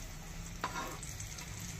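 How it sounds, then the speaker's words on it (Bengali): Brinjal slices fry in soybean oil in a wok, a faint, steady sizzle with one brief scrape of a spatula stirring partway through, no talking. "মজমচে করে বেগুন ভাজা হচ্ছে"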